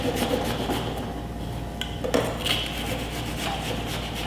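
A knife slices through an onion on a cutting board, with soft rasping cuts and a couple of sharper knocks against the board, close and fairly quiet.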